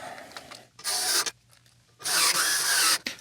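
A Skil power driver drives screws into a Crate Blue Voodoo speaker cabinet, two loud bursts of whirring and grinding separated by a short pause, with a quick final blip at the end.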